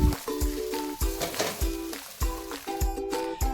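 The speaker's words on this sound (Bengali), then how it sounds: "এই সমস্ত উপকরণগুলোকে ভালো করে হাই ফ্লেমে কড়াতে ভেজে ভেজে একদম শুকনো করে নিতে হবে" Fish kochori filling with chopped coriander is dry-fried in a wok over high flame, a spatula striking and scraping the metal in a regular rhythm of sharp clanks over a steady sizzle.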